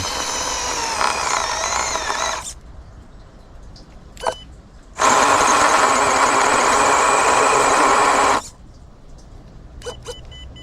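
A stock HPI Venture18 Flux 1985 Toyota Hilux RC truck drives with an electric motor whine in two bursts, a brief one and then a longer, louder, steady run of several seconds, separated by quiet gaps with small clicks.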